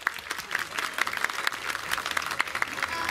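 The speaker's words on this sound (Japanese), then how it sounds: "じゃあ大きな拍手を迎えてください。" Audience applause at a live television station festival event, a steady burst of many hands clapping throughout, fairly close and even, with faint crowd murmur underneath.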